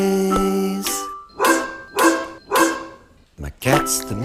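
A dog barks close by in a short run of four or five evenly spaced barks, loud and sharp, with a tonal sound heard just before the barking starts.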